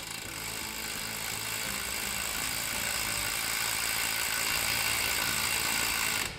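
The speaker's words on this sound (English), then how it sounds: "made it to fit a cordless drill" A cordless drill turning a boat winch whirs continuously at a steady pitch for several seconds, close and fairly loud, then cuts off abruptly at the end.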